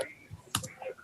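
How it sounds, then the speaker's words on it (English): A few scattered clicks from typing on a computer keyboard during an online follow-up session, quiet and close, with short pauses between keystrokes. "I'm typing it in the chat window."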